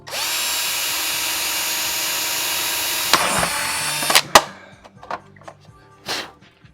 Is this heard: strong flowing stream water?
no